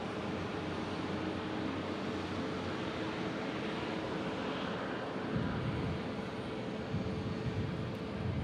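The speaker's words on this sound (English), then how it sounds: "I see one Southwest departing here." A Southwest Airlines jet departing Omaha Eppley Field, a distant continuous low engine rumble that stays fairly faint and even, with slight swells toward the end.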